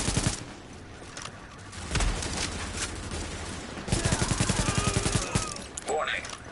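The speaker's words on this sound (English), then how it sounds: "Warning, supplies taking fire." Bursts of automatic gunfire crackle through a Tom Clancy's The Division firefight, with rapid rattling volleys around the middle and later stretches, mixed with game effects and a voice speaking over the action.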